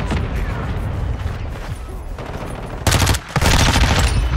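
Rapid automatic fire from a Lachmann Sub (MP5) submachine gun in Call of Duty: Modern Warfare 2, dense continuous bursts mixed with game explosions and effects, loudest in a sharp burst near the end.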